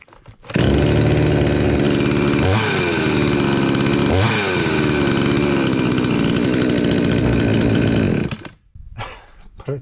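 A faulty petrol chainsaw engine runs loud and close, idling steadily with two brief revving surges before cutting out abruptly near the end.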